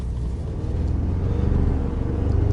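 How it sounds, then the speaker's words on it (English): A Ford Ranger pickup accelerates at half throttle, a steady low engine rumble that builds in loudness over a couple of seconds, close by with no talk. "So I'm going to go ahead and give it half throttle"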